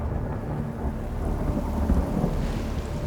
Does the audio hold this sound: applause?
no